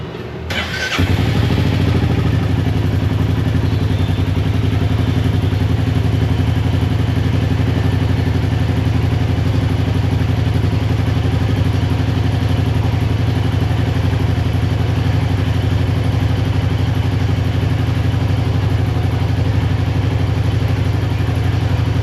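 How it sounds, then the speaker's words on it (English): An engine fired up after an oil change starts with a sudden burst and then runs at a loud, steady, rumbling idle that holds unchanged throughout. "you run the engine a couple times, let it rest, run the engine a couple times more"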